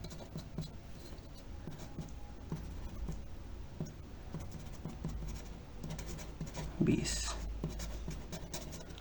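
A pen scratches out a math answer on paper in short, close strokes with brief pauses, under a teacher's steady speech.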